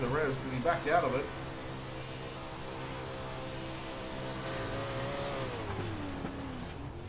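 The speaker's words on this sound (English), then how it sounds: "You can hear the revs because he backed out of it." Engine of a 360 sprint car heard from an onboard camera, a steady droning engine tone that rises and then sweeps downward as the driver backs off, with a voice talking over it at the start.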